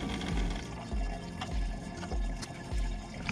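Coolant pours and trickles from the radiator drain of a 2010 Mazda 6 with a thermostat, a steady close liquid flow with several low thumps mixed in.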